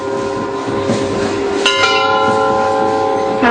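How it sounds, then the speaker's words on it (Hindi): A temple bell is struck, and its metallic tones ring on with sustained overtones. A second strike comes near the end, louder, over a faint background murmur. "जब हम मंदिर में घंटा सुनते हैं तो एक विचित्र अनुभूति होती है"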